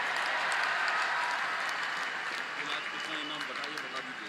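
A crowd at a ceremony honouring hockey teams, medal-winning players among them, applauds in a dense, sustained roar of clapping that fades slightly toward the end, with voices mixed in.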